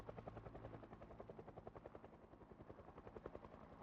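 Helicopter in Project Zomboid passing overhead, a steady rapid rotor chop that pulses evenly throughout at moderate loudness, alone without talk.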